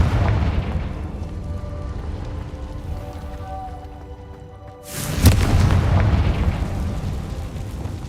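A Confringo fire spell in Hogwarts Legacy bursts into a loud, close explosion partway through, its broad boom and crackling tail ringing out over a steady low game ambience and faint music.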